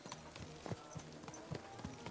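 Horse hooves clip-clopping in a medieval video game, a slow, even series of soft, muffled thuds at moderate distance over a low, steady ambient bed.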